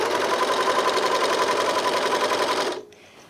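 A Janome 644D serger/overlocker stitches a single layer of fabric, a fast steady mechanical whirr running loud and close for nearly three seconds before it stops abruptly into quiet.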